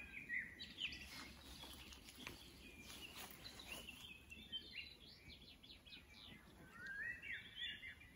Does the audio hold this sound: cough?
no